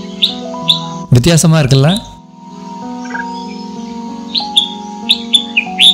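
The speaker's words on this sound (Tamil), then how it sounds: "செம்மீசை கொண்டைக்குருவி அப்படின்னு சொல்கிற ரெட் விஸ்கட் புல்புல்" Short, sharp whistles and chirps of a red-whiskered bulbul ring out in bursts around a brief stretch of talk, over a steady low background hum.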